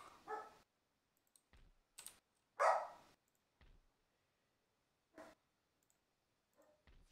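A dog gives a single short bark indoors, set among sparse mouse and keyboard clicks in a quiet room during a PC strategy game session.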